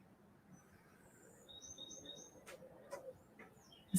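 Small birds chirp faintly outdoors, a few high thin tweets and short calls scattered over a quiet background with soft rustling.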